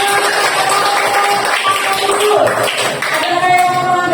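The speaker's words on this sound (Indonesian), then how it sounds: "Oke, tepuk tangan dulu." Classroom children clapping hands together in a noisy room, a dense patter of claps mixed with overlapping young voices and chatter throughout.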